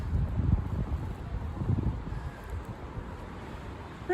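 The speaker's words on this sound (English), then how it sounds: "So I'd rather be outside in the wind." Wind blows outdoors in low, gusty buffets against the microphone, strongest in the first two seconds and then settling to a softer steady rush.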